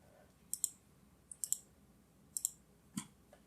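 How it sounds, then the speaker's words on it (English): Keys on a computer keyboard clicking as a font name is entered into WordPerfect 8, faint, sparse taps in small clusters of two or three, heard close with no speech. "What if I just type in a font?"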